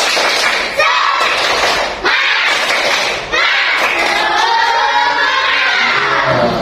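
Schoolchildren in a classroom repeat the 'tepuk semangat' clap: loud patterned group clapping with chanting voices, broken by short gaps between rounds.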